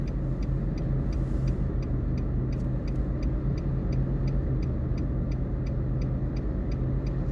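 A car on a road during a driving lesson gives a steady, close engine and road rumble that holds constant throughout, with a faint regular ticking above it and no one talking.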